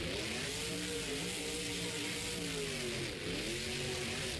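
A monster truck running on a flat tire crawls over a row of cars at an Indy series Monster Jam show in Lamar. Its engine growls and revs steadily and loudly throughout, under a broad roar of crowd and arena noise.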